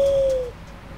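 An owl calls once in the video game Far Cry Primal. It is a short, clear hooting note lasting about half a second, then it fades into a quiet background.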